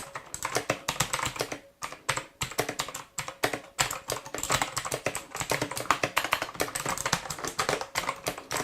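Rapid, uneven typing on a Gamdias E2 TKL mechanical gaming keyboard with a metal top plate, producing close, crisp clicky keystrokes in bursts with a few short pauses and no talking.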